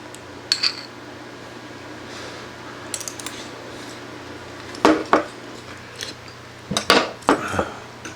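Dishes and cutlery clink during a meal of wild rock bream prepared several ways with rice: sharp scattered taps of metal on ceramic, some clustered, over a quiet room hum.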